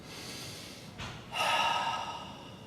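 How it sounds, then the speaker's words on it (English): A single deep cleansing breath during a yoga session, a quick inhale through the nose followed by a longer, louder exhale through the mouth, close and clear with no talking. "We take 4 big inhales through the nose and exhale through the mouth, just cleansing breaths."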